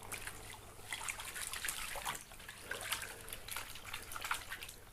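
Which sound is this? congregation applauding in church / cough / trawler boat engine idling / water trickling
water trickling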